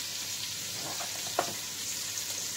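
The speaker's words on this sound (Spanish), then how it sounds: "voy a pochar primero bien la cebolla" Onion sautés gently in a pan, a soft steady sizzle with a brief stirring scrape midway, close but quiet, with no voices.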